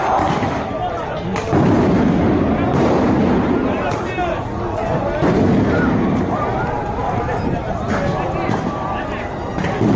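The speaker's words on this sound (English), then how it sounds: "the Israeli police throwing stun grenades at protesters" Stun grenades thrown by Israeli police at protesters at the Damascus Gate in East Jerusalem, with several loud bursts cracking over a dense, noisy crowd and shouting voices throughout.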